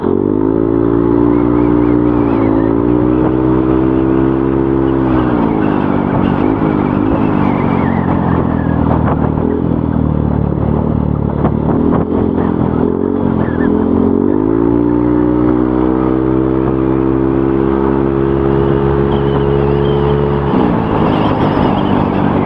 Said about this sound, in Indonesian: sekarang kita akan coba sedikit geber RPM-nya